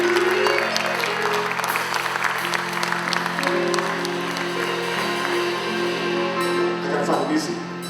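An audience at a live band concert at Monmouth College claps steadily and warmly for about eight seconds, with a faint tonal hum from the stage underneath.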